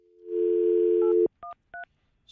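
Touch-tone dialing on a cell phone: a long steady tone followed by two short separate keypad beeps, loud and close, with no talking.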